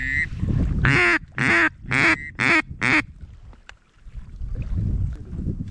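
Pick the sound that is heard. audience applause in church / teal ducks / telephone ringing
teal ducks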